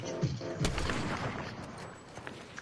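Sniper gunfire in a shooter video game, a few sharp cracks with one louder report near the start, fading into quieter distant shots.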